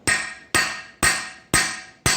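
Five evenly spaced sharp hammer taps, about half a second apart, seating a camshaft part into a 351 Windsor V8 engine block from a 1968 Ford Galaxie 500 convertible, close and clear with no talk.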